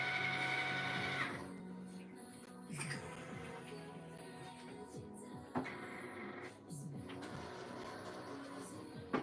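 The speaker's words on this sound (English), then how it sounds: "sometimes when the paper is pulled through my printer, it tilts it a little bit or something" A home printer pulls paper through while printing stickers, giving a low mechanical whir with intermittent clicks and ratcheting catches over several seconds, with no talking.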